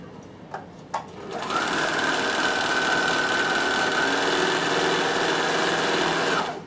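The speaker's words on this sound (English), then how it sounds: "So now I'm just going to overlock that seam there, cut that thread." An overlocker stitches a seam in cotton fabric, running steadily and loudly for several seconds after a couple of brief clicks, then stopping.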